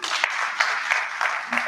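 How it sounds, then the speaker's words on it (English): A small audience at a Nigerian science talk claps briefly, a loose, uneven patter of hands with a few sharper individual claps. "Let's clap for him."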